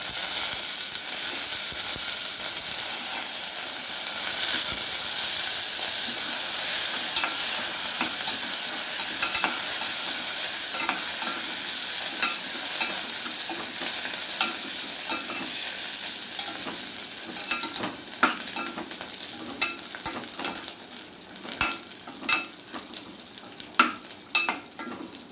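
Curry leaves and dried red chilies fry in hot oil in a pan with a steady, bright sizzle, joined later by sharp clicks and scrapes of stirring.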